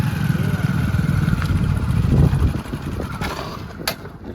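A motorcycle engine runs nearby with a low, rumbling idle and some wind buffeting, fading somewhat toward the end.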